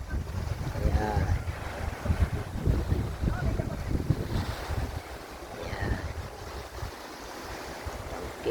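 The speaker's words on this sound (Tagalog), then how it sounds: "Okay, kaganda ang beach dito." Beach at Colera near Barcelona, with steady wind rumble and washing surf under a constant low roar, some faint distant voices drifting in the background throughout.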